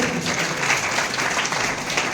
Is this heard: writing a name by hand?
no